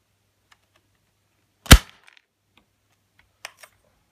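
A single sharp shot from a Franchi SAS 12 shotgun fired over a chronograph cracks out loud and close, followed by a couple of faint clicks, with quiet around it.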